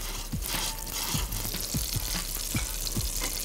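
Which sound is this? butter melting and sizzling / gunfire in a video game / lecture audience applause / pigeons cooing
butter melting and sizzling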